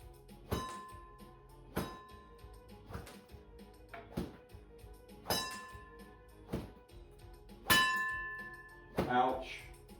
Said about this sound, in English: 4-inch gong is going to swing more, obviously, if you hit it.